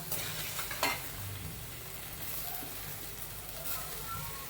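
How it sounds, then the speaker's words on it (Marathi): Fried rice being stir-fried slowly in a pan, giving a faint continuous sizzle with occasional soft scraping strokes of the spoon. "आपण त्या ज्यामध्ये आता आपला भात आहे तो सावकाश परतून घेऊया"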